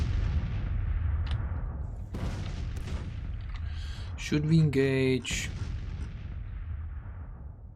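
Distant cannon artillery booms in a Grand Tactician Civil War battle at Clarksburg, a low rumbling barrage running throughout, with someone speaking over it and a brief tonal game effect in the middle.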